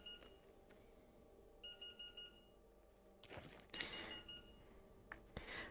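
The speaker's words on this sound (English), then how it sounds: "Noise comes from the tide meter gadget at the top of it." Electronic beeping from the tidometer gadget in the video game Into The Radius: short repeated bleeps in small clusters, with clanks and movement noises in between, fairly quiet and heard without speech.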